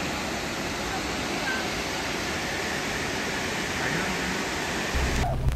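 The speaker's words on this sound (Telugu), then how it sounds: "వాటర్ సౌండ్ కూడా వస్తుంది. చాలా అంటే చాలా రిఫ్రెషింగ్ ఉంది సౌండ్ అయితే" Hooker Falls in North Carolina sends up a steady, unbroken roar of rushing water, loud and even throughout with no voices.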